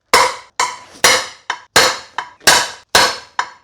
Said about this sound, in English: Maybe we'll just have to hit it until it comes off.